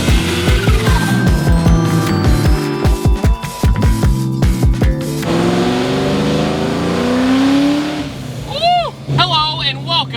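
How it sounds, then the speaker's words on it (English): A supercharged 5-liter Ford Mystic Cobra with a fully built motor revs hard through several rapid gear pulls, the loud engine rising and falling in close succession before settling into a cruising drone, with someone talking over it. "So, what's it like driving a supercharged 5-liter, fully built motor Mystic Cobra?"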